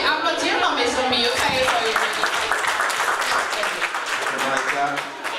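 Children applaud at a children's programme, a dense stretch of clapping that fades slightly toward the end, with voices mixed in.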